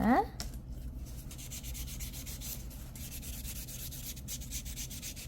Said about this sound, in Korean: 너무 튀어나온 부분 있으면 파일로 좀 갈아서 맞춰주시면 됩니다